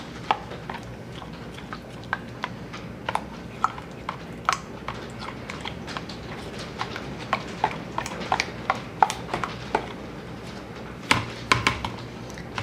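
Soap mixture being stirred in a pot, with steady scraping and knocking of the utensil against the pot in an irregular rhythm, close and fairly loud, with no talking.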